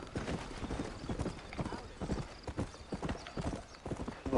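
A black horse in the video game Red Dead Redemption trots along with a steady, rhythmic clip-clop of hooves, fairly close, with faint background sounds underneath.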